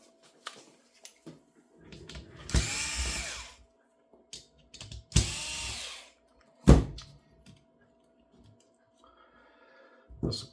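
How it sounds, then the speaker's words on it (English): A power screwdriver whirs in two short bursts, removing screws from a Toshiba copier part, amid small clicks and plastic handling noises and long quiet gaps, close up. "we're just going to take out this screw and that screw"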